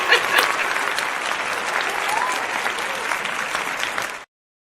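A round of applause from a live evening-show audience, steady clapping of many hands that holds at an even level for about four seconds and then cuts off abruptly.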